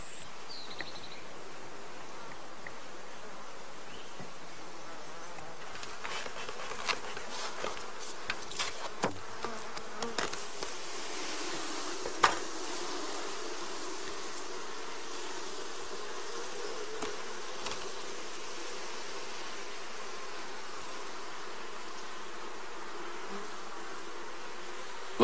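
Honey bees buzz around an open hive colony, a continuous close drone with individual insects zipping past the microphone and brief handling clicks, sustained throughout with no talking.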